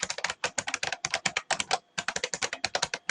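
Quick, light keystrokes rattle on a computer keyboard as a username and password are entered, in a close, quiet burst of typing with a short pause midway.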